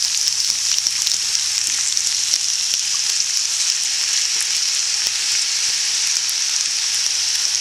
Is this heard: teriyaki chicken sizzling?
yes